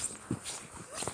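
A small dog outdoors in the snow gives brief, quiet whimpers and a short yip within about a second, with faint background noise.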